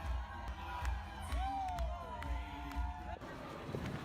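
Crowd of fans cheering and whooping at a packed party after a Brier curling win, a continuous noisy roar of shouts and babble with scattered louder cries and a whistle-like tone.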